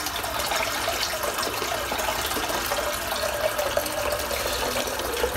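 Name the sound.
sink filling with water from the tap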